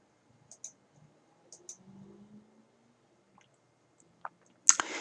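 Mouse clicks in a quiet room, a few sharp isolated taps spread apart, close and faint, followed by a louder click burst at the end.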